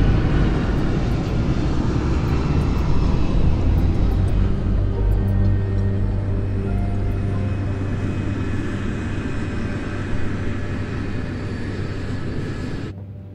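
A passenger airliner aborts its approach and climbs away in a go-around near an airport with rain clouds and an approaching typhoon, a steady loud engine roar sustained throughout, slowly easing toward the end.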